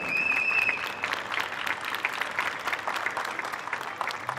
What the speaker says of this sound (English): one big final round of applause for Mini